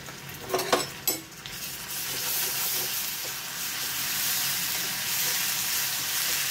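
Ginger garlic paste hits hot oil in a frying pan, a few sharp spoon taps at first, then a steady close sizzle with faint stirring, for an onion egg curry.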